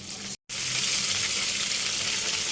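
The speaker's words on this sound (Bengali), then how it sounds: "তেল গরম হয়ে গেছে এখন আমি চিকেন দিয়ে দিব" Chicken pieces frying in a shallow pan of hot oil on a medium flame, a loud steady hiss and crackle close up, broken by a brief silent gap near the start.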